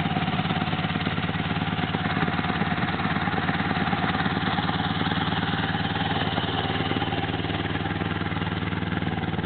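A 1984 Honda V-65 Sabre 1100cc motorcycle engine runs close by in a continuous, even rumble with a rapid firing pulse, holding steady rather than climbing into clear revs.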